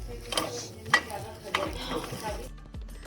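Egg fried rice stirred in a pan at home, with soft sizzling under scraping and clattering of a spatula against the pan, several sharper knocks and clinks, quiet background and faint voice.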